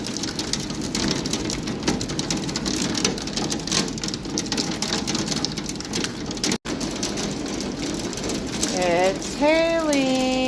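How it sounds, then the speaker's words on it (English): Hail pelts down on a Colorado farm in a dense, steady patter on surfaces close by, with a brief dropout partway through and birdlike chirping near the end. "It's hailing."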